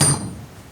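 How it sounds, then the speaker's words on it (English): A single sharp metallic knock rings out up close as an improvised slide hammer strikes to drive a valve guide out of a 1966 John Deere 110 tractor engine, then decays quickly. "Just kind of trying to think of something large I can use as a slide hammer."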